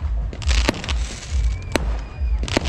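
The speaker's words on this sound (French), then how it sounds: "on a droit à un petit feu d'artifice" Fireworks set off around a parking area at a muddy motocross event, a string of loud pops and cracking bursts going off repeatedly at close range.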